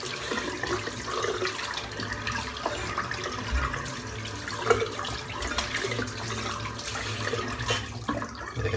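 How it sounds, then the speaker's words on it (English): Hot tap water runs into a sink as a razor is rinsed during a head shave, a steady splashing stream with small clinks and shifts in flow. "I'm just going to rinse the razor under some hot water"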